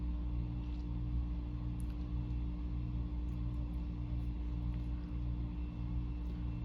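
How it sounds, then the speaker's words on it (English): A home heat pump coming on gives a steady low hum and rumble with faint broadband whir, moderately quiet and continuous throughout, with no talking. "Sorry about the noise, but that's my heat pump just coming on."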